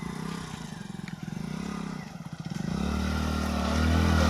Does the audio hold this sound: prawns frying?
no